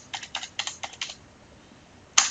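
Keys clack on a computer keyboard in quick bursts of close typing, then a pause and one sharper final keystroke, with no talking.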